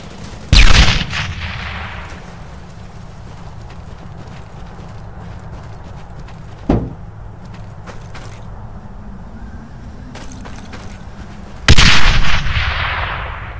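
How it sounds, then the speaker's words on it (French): Grenade explosions and gunfire in the World War II shooter Brothers in Arms: Hell's Highway: loud booming blasts open and close the stretch, with a sharp shot in between over a constant rumbling battle din. "Je lance une grenade!"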